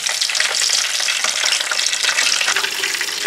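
Pork skin fries in hot oil for crispy pork, a loud, dense, continuous crackling sizzle that holds steady throughout with no voices.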